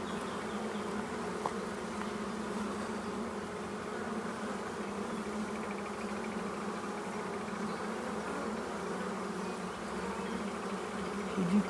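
Dense, steady hum of honeybees swarming around an open hive in an apiary while a nucleus colony is moved into a full hive, continuous and close for the whole stretch.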